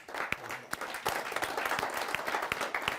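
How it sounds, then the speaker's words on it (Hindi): An audience at a humorous mushaira and kavi sammelan applauds to welcome a poet. The clapping is moderately loud, with sharp individual claps standing out above a softer crowd patter. "जोरदार तालियों से स्वागत करते हैं"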